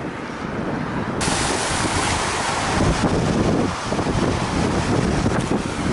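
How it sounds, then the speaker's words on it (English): Strong wind roars and buffets across the microphone on a bike ride along the Galveston seawall, a loud, constant rushing wash with no talk. "Wind is brutal."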